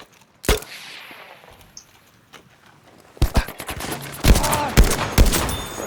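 Gunfire crackles through a shooter video game match, with an isolated sharp shot early, then a dense burst of rapid overlapping shots and cracks in the latter half, loud and close with faint background ambience.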